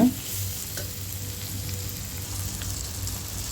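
Tomato masala for a sardine (mathi meen) fish curry is stirred and sautéed in a pan, giving a steady close sizzle with scraping stir strokes throughout, with no talking.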